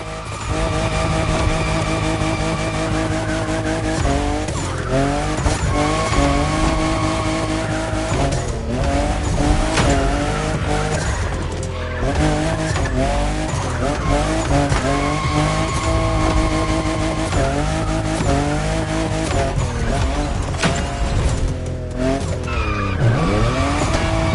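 Toyota Supra, fifth generation, racing in a video game, with a continuous loud engine drone that rises and falls through gear changes and repeated tire squeals as the car skids through turns, with no talk.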